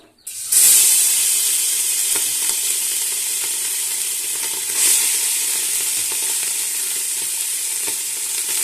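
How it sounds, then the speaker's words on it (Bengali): Cooked rice with turmeric hits a hot pan for vegetarian pulao and is stirred, bursting into a loud, close, continuous sizzle with occasional scraping from the stirring. "এবার দেখো এইভাবে একটু নেড়ে চেড়ে নেবো ভাতগুলো।"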